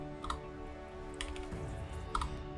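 Keys on an Allied Sparrowhawk computer keyboard click in a few scattered, sharp taps, faint and close, over a steady low hum of background sound.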